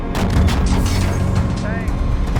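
Tank cannon fire in the Steel Beasts tank simulator, a loud dense booming barrage with mechanical rumble held throughout, while a voice calls out over it.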